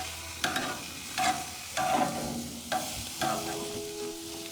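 Zucchini and yellow squash sizzling on a grill, a steady close hiss with several scraping turns and tong clacks spaced about a second apart, no voices.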